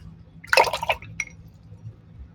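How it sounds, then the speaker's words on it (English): A paintbrush swished and rinsed in a cup of water while painting with acrylics: a short burst of soft splashing and dripping, then a faint single drip, close and quiet against a low steady hum. "wash my brush"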